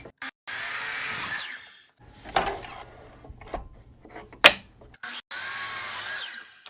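A saw rips a walnut board to width in a woodworking shop, with loud close bursts of cutting noise at the start and end and quieter scraping, knocks and handling sounds in between.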